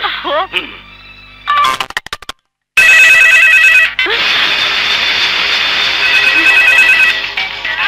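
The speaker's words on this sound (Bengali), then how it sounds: "আবার ফোন করেছে।" Electronic phone ringtone chiming in repeated bursts, loud and close, interrupted by a brief silent gap, then ringing on steadily while background music plays underneath.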